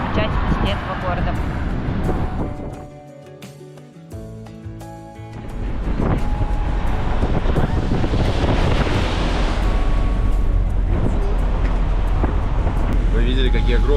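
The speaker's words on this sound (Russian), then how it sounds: "какие огромные волны вырываются прямо на набережную из океана" Large ocean waves crash onto a seafront embankment in Havana, Cuba, giving a loud, continuous roar of surf under heavy wind buffeting the microphone, with a brief lull before the noise surges back, and people talking throughout.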